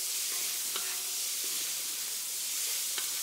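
Pork and onion stir fry sizzles in a cast iron pan with a steady, dense hiss, and faint stirring scrapes and taps come through at irregular moments.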